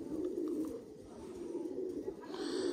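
Racing pigeons, including a 2013 bird from Denmark, coo in a low, steady murmur throughout, with soft wing or movement sounds underneath.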